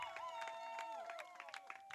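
Wedding guests applaud in scattered, crisp claps right after a couple is pronounced husband and wife, while a sung or pitched voice rises and falls over them.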